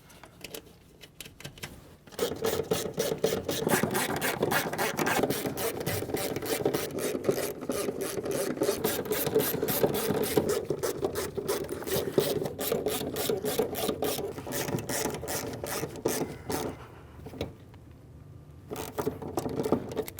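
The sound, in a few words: tightening mounting nuts on Subaru Impreza fuel pump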